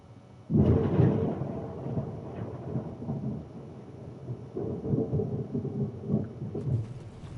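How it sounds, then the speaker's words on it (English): A thunderstorm rumbles outside: a sudden deep roll of thunder breaks in, then long, low rumbling waves rise and fall with a rain-like hiss beneath, moderately loud and heard from indoors, with no talk. "It is storming bad outside,"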